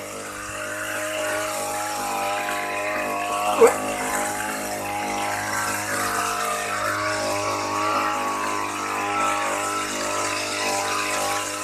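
A small engine-powered fertilizer sprayer drones steadily and loudly throughout, with a brief sharp knock partway through; no voices.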